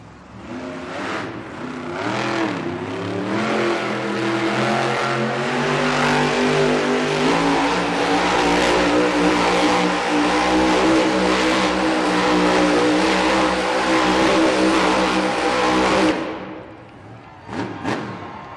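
Monster truck named Sparkle Smash roaring and revving hard through a donut competition in an indoor Milwaukee arena, engine sustained and loud for about sixteen seconds over crowd noise before cutting off, with thuds afterward.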